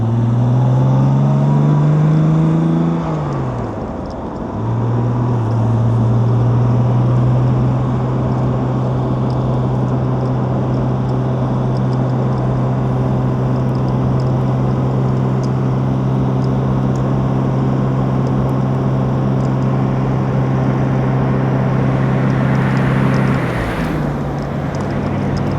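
A 1964 Jaguar E-Type Series 1 3.8L roadster engine hums steadily while cruising, holding a smooth droning note after a brief shift near the start, heard from close by with no talking.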